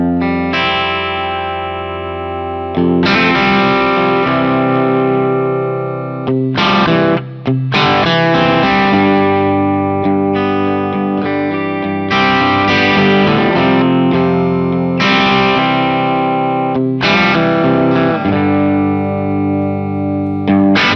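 Distorted electric guitar played through a Matchless D-30 amp model on a Fractal FM9, loud and continuous with chords and riffs that break briefly and resume, with no talking.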